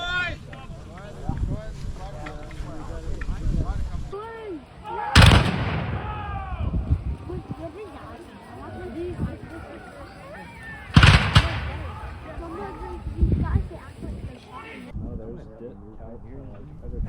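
Two heavy cannon booms from an artillery piece at a Civil War battle reenactment at Prairie Grove ring out several seconds apart and echo across open ground, with wind noise and people talking throughout.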